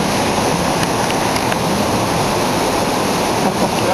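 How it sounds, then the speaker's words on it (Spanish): Río Plata waterfall roaring steadily at close range, a dense, constant rush of falling water with no pauses, loud and unbroken throughout, with no voices over it. "La cascada Río Plata, hemos llegado a lo más lejos."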